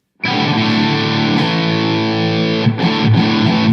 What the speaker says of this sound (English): I also have an overdrive going to the front of the amp, and it sounds like this.